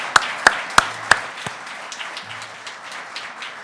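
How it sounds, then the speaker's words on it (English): Audience applause for apprentices at an Apprentice of the Year award ceremony begins with four sharp, evenly spaced claps close by, then thins into a softer, scattered patter that fades over a few seconds. "can we just give them all a round of applause before we go any further"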